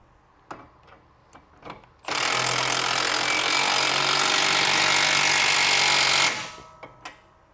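A power tool runs in one steady four-second burst, tightening the bottom strut mount bolts on a 2019 Chevy Equinox, with clanks of tools and parts before and after.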